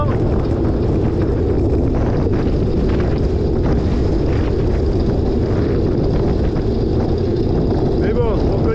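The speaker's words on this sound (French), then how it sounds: "là on est sur la descente, il y a toujours du vent." Strong wind roars across the microphone during a descent on a course reconnaissance ride, a constant loud low rumble that masks everything else.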